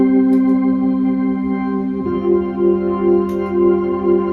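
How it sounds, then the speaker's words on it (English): Hammond organ tone from a keyboard rig with a Leslie speaker effect, sustained chords held steadily, then a shift partway with a swirling, pulsing warble as the notes continue, close and clear. "So if I play organ here"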